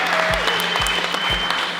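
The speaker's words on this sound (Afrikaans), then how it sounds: "kan ons asseblief net 'n groot applous gee vir die nuwe meneer en mevrou De Villiers." Wedding guests applauding the newlyweds at a celebration in Belle Vallee, Wellington; a steady burst of clapping from a crowd, loud and close, lasting under two seconds with no speech.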